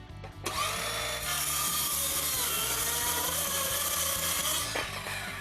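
A circular saw crosscuts a 1x12 wooden board, giving a loud, continuous, high-pitched cutting whir that runs almost unbroken for about five seconds before tapering slightly at the finish.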